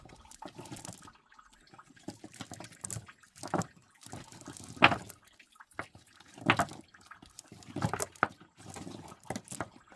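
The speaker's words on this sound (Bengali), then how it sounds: "এপারের থেকে জলটা পড়ছে সেই আওয়াজটা হচ্ছে" Water trickling and dripping from a riverbank into a tidal creek in the Sundarbans mangrove forest, soft irregular splashes and drips in bursts, fairly close and quiet.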